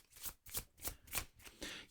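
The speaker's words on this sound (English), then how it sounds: "here's a card that I missed. Let me just shuffle it in." A card deck for the board game Felines of Fetchin' Bone is shuffled by hand, giving several quick, close riffling bursts in an even rhythm with no voices.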